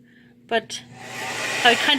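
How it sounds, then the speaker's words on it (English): A blow dryer whooshes on after a couple of brief knocks and keeps running with a steady airy roar. "But when I hit it with the blow dryer,"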